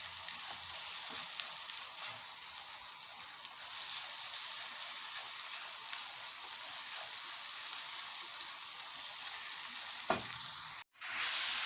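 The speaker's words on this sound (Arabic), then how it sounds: "انا شوحتهم مع بعض، الفلفل والبصل والثوم" Pepper, onion and garlic sautéing with vegetables in a pan give a loud, continuous sizzle, with faint stirring scrapes and a brief break near the end.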